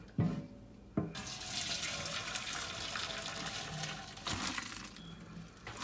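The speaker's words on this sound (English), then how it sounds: "So now we'll give a cold water rinse so that they don't stick to each other." Cold tap water runs steadily over freshly boiled and strained Hakka noodles in a strainer container, a continuous broad splashing rush with a couple of sharp onset clunks, loud and close, with no voices.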